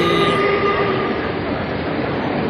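An MRT metro train at a station, a loud, steady roar of rolling rail cars with a faint high squeal, heard up close on the platform.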